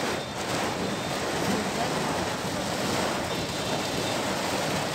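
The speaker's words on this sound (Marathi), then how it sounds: "समुद्राचं पाणी येते सगळं" Seawater surges in during heavy Mumbai rain and strong wind. A loud, continuous rushing wash of water and wind holds steady throughout, close and unbroken.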